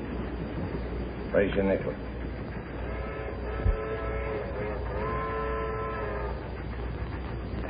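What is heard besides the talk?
train from Chicago approaching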